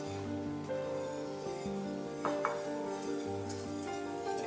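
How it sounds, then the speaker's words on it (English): A spoon stirs stuffed flounder filling in a pan on a stovetop that has just been turned off: soft scraping and a few light metallic clinks, close, with a steady low hum underneath. "You want to stir it."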